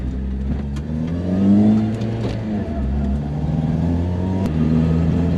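A supercharged 1996 car with a five-speed gearbox drives along, its mid-pitched engine note steady and close, rising and falling with shifts and throttle, with no talk over it.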